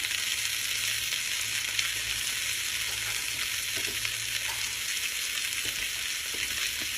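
Red bell pepper and snow peas sizzle in a hot stir-fry pan, a dense, steady crackling hiss with light stirring scrapes, close and continuous with no talking.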